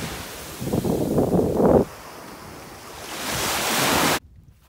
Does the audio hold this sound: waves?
yes